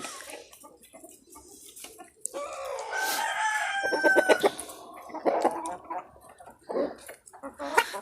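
Chickens clucking up close with a rooster crowing loudly through the middle, followed by more scattered clucks and squawks.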